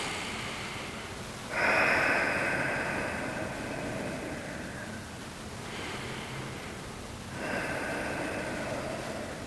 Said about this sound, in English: Take two deep breaths here.